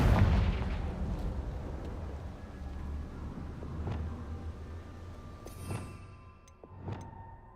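A Confringo spell blast in the video game Hogwarts Legacy, a loud booming burst at the start that rumbles and fades, followed by a few fainter cracks and clinks.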